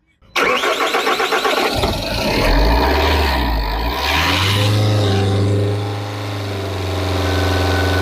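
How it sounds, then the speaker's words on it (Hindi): A Jeep Compass engine, just back from an overhaul, cranks with a rapid starter chatter, then catches and revs up to about 1500 rpm before settling into a loud, steady hold close by. "चलो फिर सेल्फ लगाओ और रेस देना, 1500 आरपीएम पे रोक लेना"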